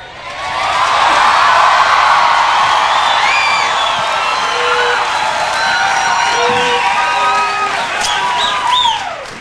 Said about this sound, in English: Now, listen to the reaction of the crowd here.